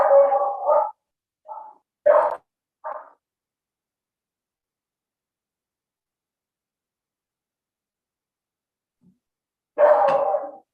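A female pet dog barks indoors in several sharp, close bursts. A quick cluster comes first, then a long silence, then one more loud bark near the end.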